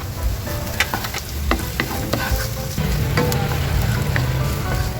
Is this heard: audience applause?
no